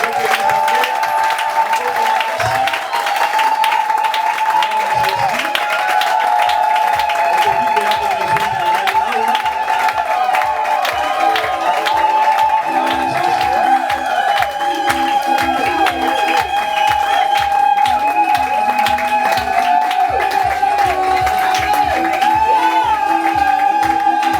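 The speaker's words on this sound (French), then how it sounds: "sous vos acclamations, Maman Sasa Skola." A church congregation at a service installing and consecrating deacons applauds and cheers, with steady, dense clapping and whoops filling the room at high volume throughout, while a voice speaks over the crowd.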